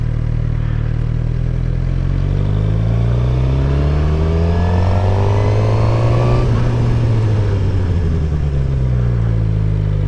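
A motorcycle engine hums steadily while a beginner rider is out on the bike, its pitch rising and falling with throttle changes, loud and close throughout, with no talking.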